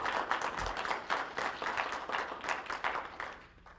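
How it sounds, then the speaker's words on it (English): Audience at a swearing-in ceremony breaks into a steady round of applause, many hands clapping in a dense, continuous patter that holds for several seconds before thinning toward the end. "So again, another round of applause."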